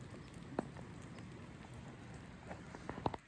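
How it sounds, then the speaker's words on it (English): Steady soft patter of rain falling outdoors at a lake campground, with a few sharper drips or taps standing out near the start and end. "Just listening to the rain."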